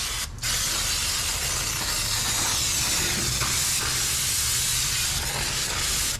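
Aerosol brake cleaner spraying continuously from a can in a garage, a loud steady hiss lasting several seconds with a brief gap at the start.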